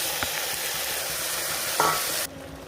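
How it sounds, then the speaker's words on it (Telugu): Tomatoes hit a hot frying pan and get stirred, a loud close sizzle with a brief scrape of the spoon before the frying sound suddenly drops away. "ఇప్పుడు టమాటాలు వేసేసుకుందాం"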